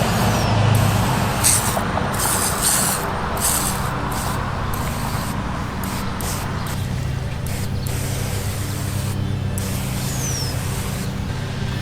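A handheld sprayer hisses steadily along a lawn edge right at ground level against a cardboard shield, a continuous close broadband spray with brief breaks and a low background rumble.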